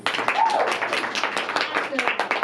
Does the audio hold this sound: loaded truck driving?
no